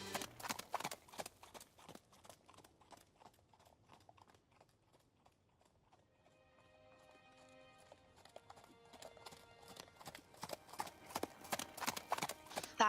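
Thousands of armored horsemen's hooves clop in a dense, rhythmic march from a city, fading briefly in the middle before growing loud again, with a faint tonal sound drifting through.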